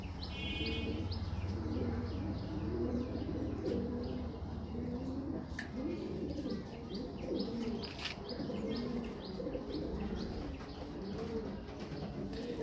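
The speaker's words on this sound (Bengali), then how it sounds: "এটা হচ্ছে আমার ফিমেল কবুতর" A female racing pigeon cooing with repeated soft throaty coos and a few chirps from nearby birds, steady and close, no talk.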